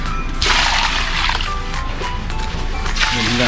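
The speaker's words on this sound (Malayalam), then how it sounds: "ഇതെല്ലാം ഇവിടെ ഈ ചെടിയിലൊഴിക്കാം." Water from a cleaned fish tank is poured onto a plant, making a loud, continuous gushing and splashing close by, with a brief voice near the end.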